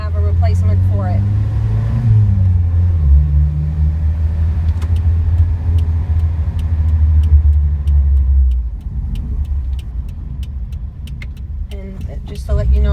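An original Toyota Sunrader pickup truck, garage-kept, on a test drive: a steady, close engine rumble and road noise carry on throughout, with light rattles and ticks above it.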